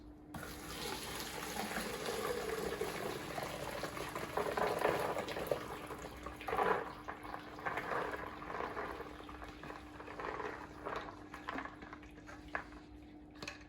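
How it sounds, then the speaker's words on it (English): Cooked chana dal lentils and their cooking water poured through a strainer, giving a steady close splashing, trickling rush that runs continuously for about fourteen seconds with a brief louder surge midway. "we're going to separate the lentils from the water by pouring it through this"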